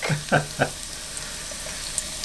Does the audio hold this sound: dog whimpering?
no